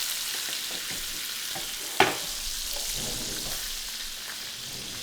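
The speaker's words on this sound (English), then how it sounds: "I'm going to melt the butter" Butter melting and sizzling in a steak pan with smashed garlic cloves and a fresh rosemary sprig, a continuous close hiss of frying with one sharp clink partway through.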